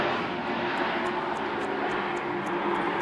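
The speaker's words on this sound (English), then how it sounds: "Let's wait for the airplane to go over." An airplane drones overhead, making a steady, fairly loud broad roar that holds evenly throughout, with a faint pulsing flutter high up and no talking.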